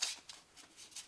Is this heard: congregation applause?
no